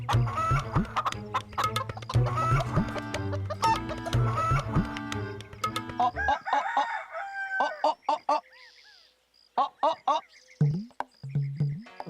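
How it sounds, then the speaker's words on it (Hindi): A rooster clucks and crows in a comedy sketch setting, with a dense run of close clucks and calls followed by sparser, separate crows and squawks. "इधर एक मुर्गा भाग आया है मेरा"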